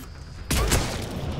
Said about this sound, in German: Alter, wie viele Schüsse habe ich da jetzt verbraucht?